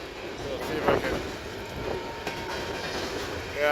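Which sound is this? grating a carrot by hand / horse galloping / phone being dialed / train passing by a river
train passing by a river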